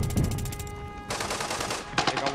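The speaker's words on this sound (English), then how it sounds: "They're shooting back." Automatic gunfire in the video game Arena Breakout, two rapid bursts of rattling shots, loud and close, separated by a short gap.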